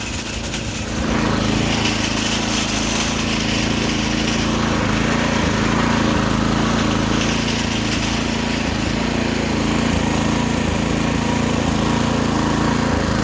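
A mini tractor engine runs steadily at throttle, a loud, continuous buzzing drone close by that holds a constant pitch with no talk.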